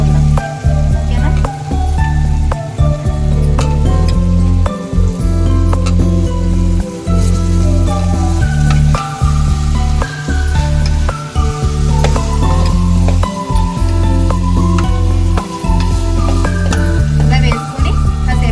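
Moringa drumsticks added to golden-fried mutton in a pan: a loud, steady, continuous sizzle with frequent short crackles and pops throughout.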